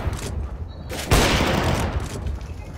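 Gunfire in the game CS:GO, a burst of loud close shots with a sharp blast partway through, dense and continuous over a short stretch, with no talking.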